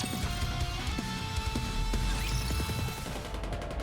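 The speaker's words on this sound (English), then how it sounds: "Gunfire rings out." Gunfire rattles through a battle scene in the mobile game Goddess of Victory: NIKKE, a dense run of sharp shots and impacts layered over booming low rumble and a musical score, loud and continuous.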